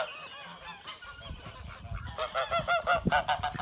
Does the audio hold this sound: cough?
no